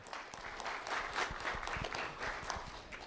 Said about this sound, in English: Round of applause for Samuel Laguerre.